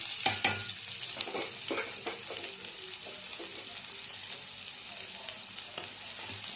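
Onions sizzle steadily in hot oil nearby, with intermittent scraping and stirring sounds over the constant frying hiss.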